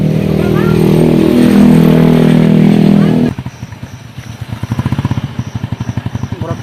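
A motorcycle engine runs loud and close, roaring steadily, then drops to a rhythmic, chugging idle putter.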